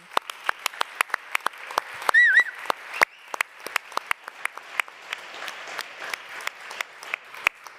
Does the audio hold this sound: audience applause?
yes